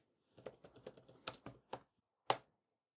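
Keystrokes on a computer keyboard, a quick run of about eight close, crisp taps, then a short gap and one harder final press, quiet and with no talk.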